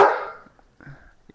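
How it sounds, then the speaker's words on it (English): A single sharp dog bark, said to come from a German Shepherd and Rottweiler, lands close and loud at the start, followed by faint scraps of sound. "I hear that. It's a German Shepherd and Rottweiler."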